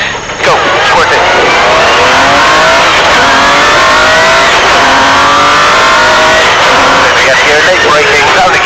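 A historic rally car at a rally festival accelerates hard under full power, its engine roaring loud and close with a steady, rising snarl that fills the whole stretch.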